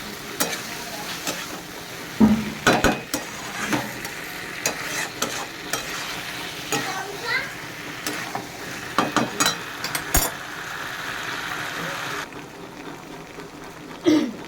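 Fish curry ingredients sizzle and fry in a pan while a spoon scrapes and stirs them in irregular bursts, close and steady, with a few sharper clanks of utensil against metal.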